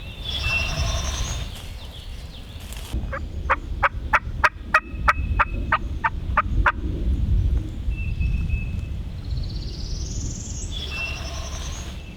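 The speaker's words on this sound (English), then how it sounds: "we heard a gobbler that sounded like he was only about 50 yards inside the woods." A wild turkey gobbler gobbles in the woods, a rapid rattling burst of about ten sharp notes in the middle, fairly close, over steady rustling outdoor ambience with faint bird calls before and after.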